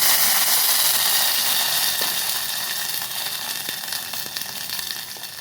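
Tomato puree for rasam hitting a hot frying pan, a steady broadband sizzle that starts loud and slowly settles, with occasional faint clicks and no talk.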